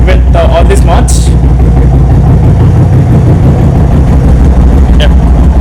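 A modified Royal Enfield Thunderbird 350 cafe racer idles close by, a loud, steady low thumping engine rhythm that carries through the whole stretch, with a few brief clicks and faint voices near the start.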